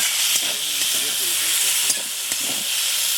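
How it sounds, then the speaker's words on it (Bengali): Eggplant and potato fry in oil in a pan while being stirred, a steady close sizzling hiss with faint scraping and a few soft clicks, and a voice murmurs faintly underneath. "কড়ার গা দিয়ে একটু তেল দিয়ে দিলাম দিয়ে এবারে বেশ সুন্দর করে নেড়ে চেড়ে বেগুন আলুটা কষে নেবো"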